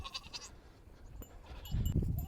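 Goats bleat on a farm in faint, brief calls, followed by closer rustling and shuffling movement near the end.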